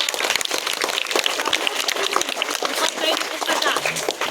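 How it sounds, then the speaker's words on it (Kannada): An audience claps loudly at a school book-donation event held for a 21-day reading campaign: a dense, continuous burst of many hands clapping, steady and close, filling the whole stretch without pause. "ಇನ್ನೊಂದು ಸಲ ಜೋರಾದ ಚಪ್ಪಾಳೆ"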